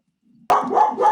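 A dog gives a single sharp, loud bark close by after a brief soft whine, then the bark trails off with a ringing tail.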